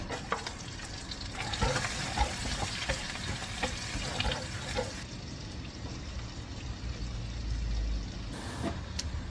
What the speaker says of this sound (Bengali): হালকা একটু অলিভ অয়েল অ্যাড করবো। এখানে আমি গার্লিকগুলো দিয়ে দেবো।